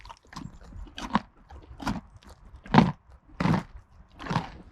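Horses crunching carrot treats, several loud, close bites and chews in an uneven rhythm with short pauses between them, no talking.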